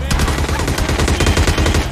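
Rapid gunfire in the mobile battle royale game PUBG Lite, a dense string of sharp, evenly spaced shots firing continuously and loudly throughout, with no other sound competing.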